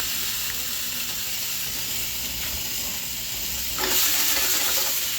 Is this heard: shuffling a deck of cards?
no